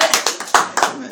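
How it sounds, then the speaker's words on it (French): Audience clapping in uneven bursts of a few claps each, close and fairly loud, with a voice speaking over and between the claps. "Oui, applaudir de temps en temps quand même."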